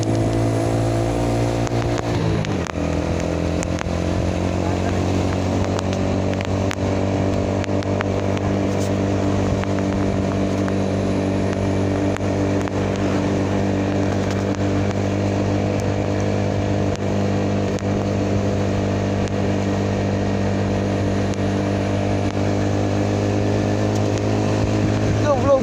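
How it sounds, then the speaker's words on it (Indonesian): A truck loaded with coconuts rumbles past at close range, a loud steady engine drone with strong low harmonics holding throughout and a brief shift in pitch early on. "Ini truk yang tadi nih."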